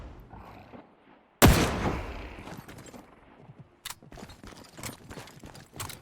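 Gunfire in the video game The Cycle: Frontier: a loud close blast is followed by a string of quieter irregular shots and impacts over faint background game noise.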